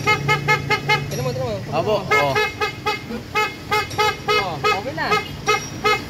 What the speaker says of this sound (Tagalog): So ibig sabihin, may busina na to.